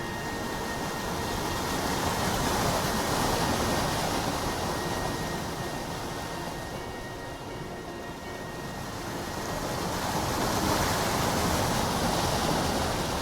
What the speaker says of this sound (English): We're going into the rapids.